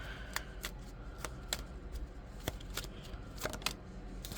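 A deck of tarot cards is shuffled for a reading, giving a close, quiet run of crisp riffling clicks and snaps in irregular bursts.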